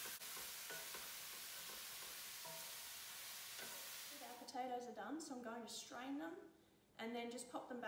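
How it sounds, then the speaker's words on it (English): Beef mince browns in a pan with a steady loud sizzling hiss and stirring for several seconds, then a person talks over the quieter frying. "So you just want to brown this beef and stir it regularly so that it doesn't stick to the pan."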